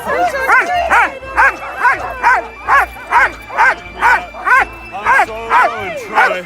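Sled dogs, brothers Denali and Bryce among them, bark and yip excitedly at a winter dogsledding kennel near Aspen, a steady run of about a dozen loud, close barks, each trailing into whining yips, with some people talking underneath.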